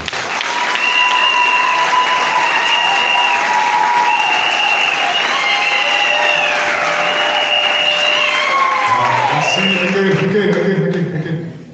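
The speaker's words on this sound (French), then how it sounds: "applaudissons très fort pour le prophète Sidoni" Loud, sustained applause from an audience honouring a prophet at a Gabonese gathering, steady for about ten seconds with a voice sounding over it before a lower tone enters near the end.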